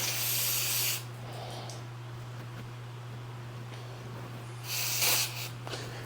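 Gun scrubber cleaner is sprayed onto wheel parts in two short, close hissing bursts, one at the start and another near the end, separated by a quiet stretch over a low steady hum.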